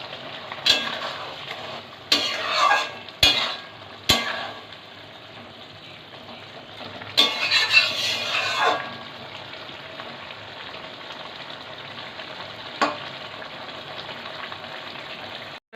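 Shrimp simmer in a Bengali okra and potato curry, a low, steady bubbling broken by a few sharp clatters and stirring bursts early on, then settling into quiet simmering.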